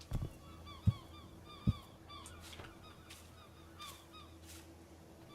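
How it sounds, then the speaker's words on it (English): Seagulls calling on a small rocky Pacific island, with scattered honking squawks and faint distant cries over a low steady background; a few sharp louder calls stand out near the start. "Lots of killer seagulls on this island"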